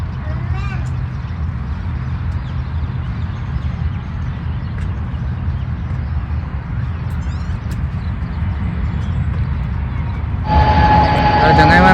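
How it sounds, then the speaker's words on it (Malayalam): A train passes near a large park in Sharjah, producing a continuous low, rumbling roar that stays steady throughout and swells louder with a brighter whine in the final seconds. "ട്രെയിൻ"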